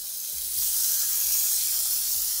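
Brined quail sizzles steadily in a hot pan or grill, a continuous bright hiss with a few soft low pops, fairly close and alone with no voices.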